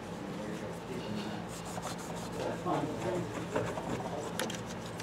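Cloth rubbing wax onto the top of a Fernandes guitar body, soft repeated scrubbing strokes, close and fairly quiet, with irregular swipes and a few brighter squeaks.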